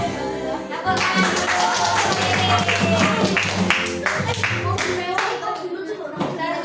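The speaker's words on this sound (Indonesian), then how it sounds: "Tepuk tangan" A primary-school class of fourth graders claps their hands in a classroom, with brisk, loud, irregular bursts of many hands filling the room and children's voices chattering and calling out under the clapping.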